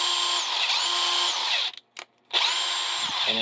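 A MAC Tools cordless impact wrench fitted with a larger 21700-cell battery whines loudly up close in long bursts, cutting out briefly in the middle before spinning up again.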